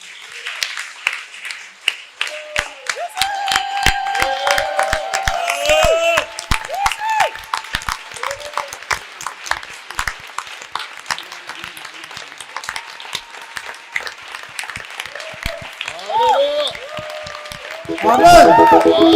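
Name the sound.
church congregation applauding and cheering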